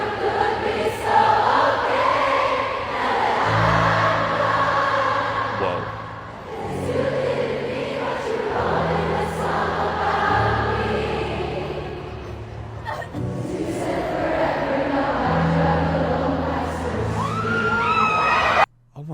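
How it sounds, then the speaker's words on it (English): A Filipino concert crowd sings a song together in loud, sustained massed voices, with swells of cheering and whoops over a steady pulsing beat across the whole stretch. "Filipinos are the best crowd during concerts because we sing like this"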